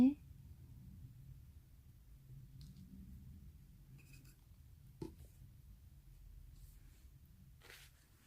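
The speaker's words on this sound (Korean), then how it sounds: "그 다음에 이쪽에도 하나 그려볼게요" A pen scratches and glides across a calligraphy postcard, soft close strokes with occasional light taps, faint and intimate against a quiet room.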